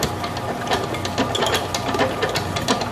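A stand mixer with a paddle attachment churns oatmeal cookie dough with raisins, giving a steady motor whir overlaid with rhythmic mechanical knocking and clatter, close and loud with no voices.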